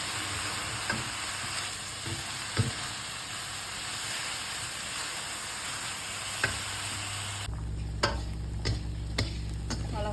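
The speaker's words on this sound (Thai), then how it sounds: "เราจะคั่วใบหม่อนนะคะ ให้มัน เพื่อไล่ความชื้น" Mulberry leaves are dry-roasted in a hot pan to drive off moisture, a continuous dry sizzling hiss with occasional stirring clicks, then a steadier low hum and sharper scrapes near the end.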